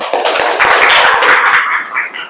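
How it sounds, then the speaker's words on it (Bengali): Audience clapping at the close of a talk about complaint boxes, a dense burst of many hands filling the whole moment at steady loudness, loud and close, with no voices over it. "এবার চাই একটি জোর করতালি"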